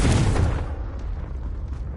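A Confringo fire-blast spell cast in the video game Hogwarts Legacy lands as a single loud, booming explosion at the start, then fades into a rumbling tail with crackling debris.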